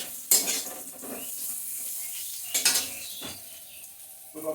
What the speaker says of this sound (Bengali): মশলা আলু একসাথে ভালো করে কষানো হয়ে গেছে।